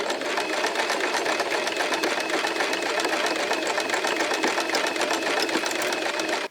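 A sewing machine hems a thin fabric strip for Barbie doll clothes, its needle chattering in a fast, even, continuous run, close and fairly loud.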